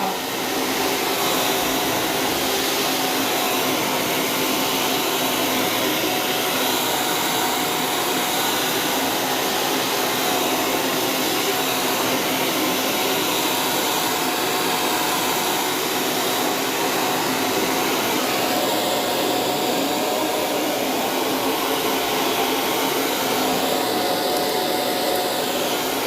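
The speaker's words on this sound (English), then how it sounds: "I'm able to dry her hair so fast" A hair dryer blows steadily and loudly for the whole stretch while drying hair during a silk press treatment, a continuous broadband whoosh with no breaks and no voices.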